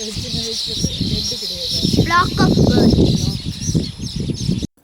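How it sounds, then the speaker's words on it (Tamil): A flock of weaver birds settled in a village field in Tamil Nadu chatters and chirps busily and continuously at close range, with a dense, rising burst of calls in the middle before the sound cuts off abruptly. "பக்கத்தில் இருந்த வயல்ல மொத்தமாக ஒரு தூக்கணாங்குருவி கூட்டம் வந்து உட்காந்துது"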